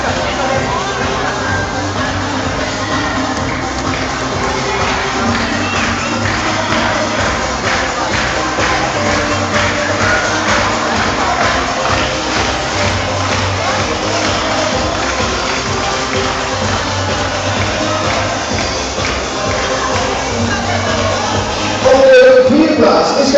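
A crowd at the Living Well judo tournament prize ceremony in Wehl keeps up a dense, steady roar of applause and cheering for the whole stretch, with a voice speaking over the hall noise and a louder swell near the end.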